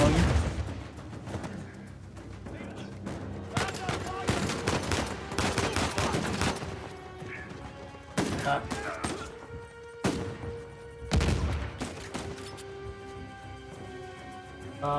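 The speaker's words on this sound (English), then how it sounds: "It looked like Sam was shooting the ground." Gunfire in the video game Uncharted 4, with bursts of loud sharp shots in clusters and rapid volleys through the middle and later part, over a constant game soundscape.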